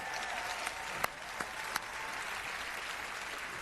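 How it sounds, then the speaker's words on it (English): A large audience at the Bethesda E3 2016 showcase applauds, a dense steady wash of clapping with a few sharper claps standing out, moderately distant and without talk. "Could I please have another round of applause"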